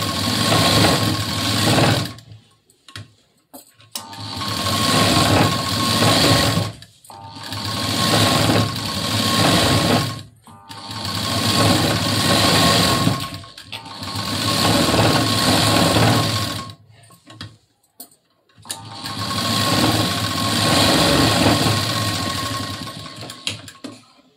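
Sewing machine stitching a blouse sleeve, running loud and close in five long bursts of steady whirring with short pauses between them.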